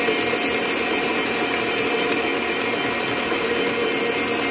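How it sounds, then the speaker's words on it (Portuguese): Electric mixer beating egg whites as sugar is added, a steady dense whirring drone that runs continuously and fairly loud with no talk over it. "Com a batedeira ligada, a gente vai colocando o açúcar até ficar em ponto de neve."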